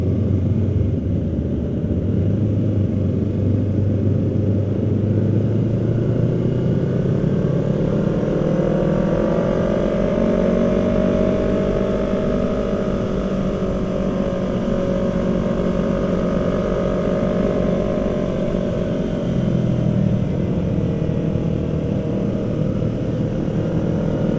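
A car engine runs at an Independence Day event in Aceh Barat, a loud sustained motor drone that swells and revs in pitch midway before settling, with no voices over it.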